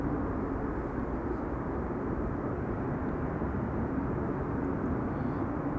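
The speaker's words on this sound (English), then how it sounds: "KLM flight 1570 is coming in next. That's a 737-800 arriving from Porto in Portugal." A KLM Boeing 737-800 arriving at Schiphol airport on a flight from Porto produces a continuous loud, low engine roar that holds steady throughout with no voices.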